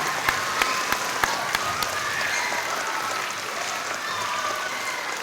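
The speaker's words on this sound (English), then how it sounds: "Let's give a huge round of applause and thanks for that awesome teamwork from our community." Schoolchildren at an elementary school ribbon-cutting ceremony give a sustained round of applause, dense steady clapping with a few sharper individual claps near the start, lasting the whole stretch without talk.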